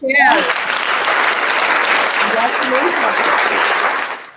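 Loud, dense clapping from a crowd continues steadily for several seconds after a brief voice at the start, then stops.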